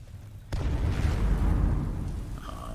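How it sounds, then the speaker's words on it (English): A loud explosion rumbles in Skyrim, a sudden deep boom that rolls and sustains low before easing off, with faint higher tones near the end. "Here's where the explosions are coming from."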